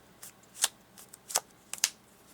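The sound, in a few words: hand shuffling a deck of playing cards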